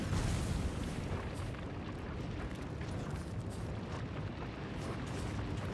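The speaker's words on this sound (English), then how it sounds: "Everything's literally on fire." Steady roaring crackle of spreading fire in the video game Divinity: Original Sin Enhanced Edition, a dense, continuous rumbling blaze with low booming undertones, loud and unbroken throughout with no talking.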